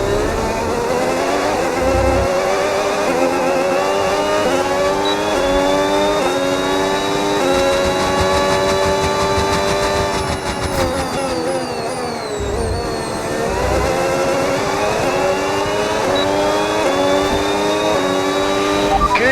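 A Formula 1 car engine screams through gear changes in the F1 racing video game during the final lap of a sprint in Canada, rising and falling in loud, close, high-pitched whines with quick shifts and a brief dip mid-way.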